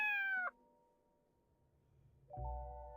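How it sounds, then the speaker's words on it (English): A cartoonish cat in a video game puzzle gives two short meows, one at the start and one near the end, loud and close with near silence between them. "I have to translate cat sounds into a 4-digit code."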